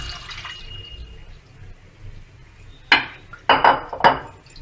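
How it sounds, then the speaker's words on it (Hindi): Cooked macaroni pasta lifted out of cold water in a pot, with a few sharp metallic clinks of utensil against pot and faint dripping water near the end, close and fairly loud over quiet background. "अब हमें 5 मिनट हो चुके हैं, हम ठंडे पानी में से पास्ते को निकाल लेते हैं।"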